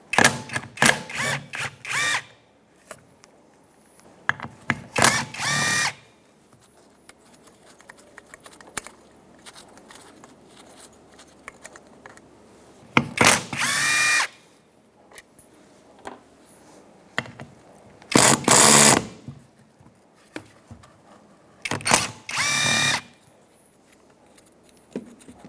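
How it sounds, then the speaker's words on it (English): Small impact gun with a 10mm socket zipping out bolts holding a fan clutch on a 2007-2017 Ford Expedition 5.4L V8, in five loud separate bursts of rattling hammering with quieter handling noises between. "I'm using a 10mm socket in my small impact gun."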